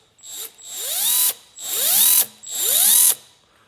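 Milwaukee M12 cut-off tool driving a Baxter belt sander, three loud bursts of high-pitched whining spin-up, each rising in pitch, holding, then cutting off abruptly, close by with no talk.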